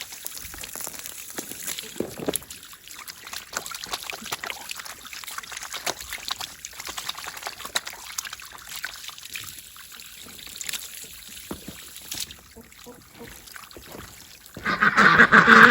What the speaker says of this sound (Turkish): Ne olur normal şu ellerimizi yıkayalım